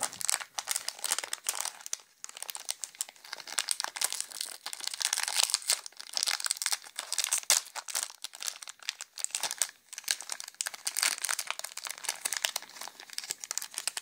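Wrapping on a box of Ukrainian-made chocolate candies crinkles and crackles steadily as it is torn open, a close, continuous rustle with no talking.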